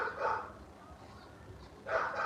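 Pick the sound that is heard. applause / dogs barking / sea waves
dogs barking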